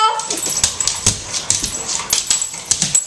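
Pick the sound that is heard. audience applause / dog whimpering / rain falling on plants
dog whimpering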